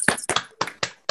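Participants in an online meeting clap for a guest: five sharp, quick claps in an uneven rhythm, close and fairly loud, with no talking.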